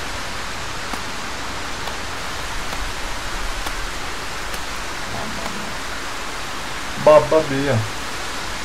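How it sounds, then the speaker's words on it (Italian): Steady hiss of rain falling in the Ylands game world, a continuous broadband wash running throughout, with a voice speaking briefly near the end. "Si è capito che piove"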